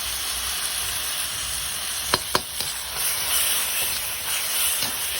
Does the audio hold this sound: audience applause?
no